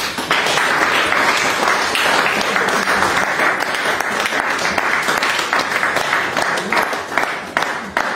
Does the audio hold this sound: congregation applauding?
yes